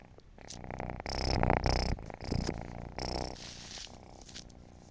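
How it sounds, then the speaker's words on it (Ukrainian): Close, soft purring from a fluffy stray kitten, rising and falling in a few rumbling bursts with short pauses between them. "І муркає."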